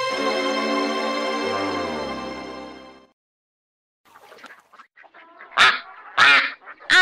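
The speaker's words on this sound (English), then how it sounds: "I'm a duckling." Cartoon duckling quacking: a sustained, tonal cartoon call holds for about three seconds, then after a short silence several sharp, close quacks burst out in quick succession.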